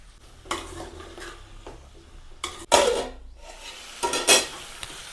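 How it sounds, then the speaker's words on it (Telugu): A spoon stirs bottle gourd, drumstick and tomato pieces in a pot for sambar, making several scraping, clattering strokes against the metal with a light sizzle underneath, close and without speech. "ఇప్పుడు మనం కడిగి పెట్టుకున్న సొరకాయ ముక్కలు అండ్ మునక్కాయ ముక్కలునే కదా ఇవి వేసుకుందాం ఒకసారి కలుపుదాం"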